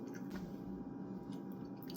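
Close crunching and chewing of Humpty Dumpty all-dressed potato chips, a steady run of moist, crackly mastication lasting a couple of seconds with no talking.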